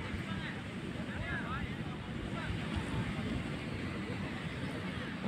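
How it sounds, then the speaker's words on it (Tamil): Sea waves wash in at night on the beach beside the Tiruchendur Murugan temple, making a steady broad roar with wind buffeting the microphone and faint murmuring voices underneath. "இதுதான் திருச்செந்தூர் முருகன் கோவில் கடல்"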